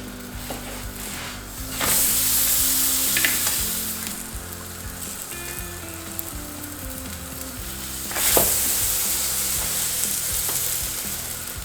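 Aloo gobi paratha fries in butter on a pan over medium flame, a steady close sizzle that swells twice as the flatbread is pressed and turned, with a few scraping touches of a spoon and no talking.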